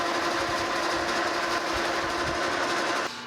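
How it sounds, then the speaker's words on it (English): A metal lathe turns a T-nut while a threading tool cuts a large leading chamfer on its front, giving a steady loud mechanical whir with rattling chatter that runs throughout and drops off near the end. "I'm going to use my threading tool to put a nice big leading chamfer up on the front of that."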